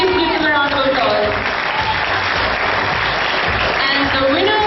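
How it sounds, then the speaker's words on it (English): A full audience at an entrepreneurs' event gives competition teams a sustained round of loud applause, steady clapping with some cheering and a voice faintly underneath. "Please give them a round of applause"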